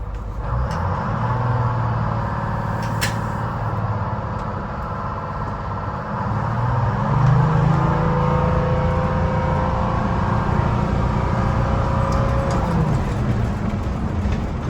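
A classic early-1950s Buick driving through a turn, its engine a steady low drone with road and cabin rumble that swells slightly midway, heard from inside the car with no talking.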